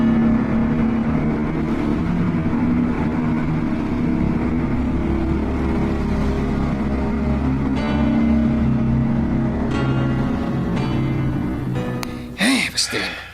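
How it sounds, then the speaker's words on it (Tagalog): A motorcycle engine roars and revs as it speeds away, loud and continuous, mixed with people talking over it and a burst of clatter near the end. "Ang driver sa motor, misibat og dali-dali."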